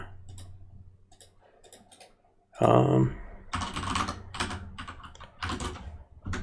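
Fast clattering keystrokes on a computer keyboard as an IP address is entered, close up, with a bright burst of rapid typing midway and brief quieter gaps between runs of keys.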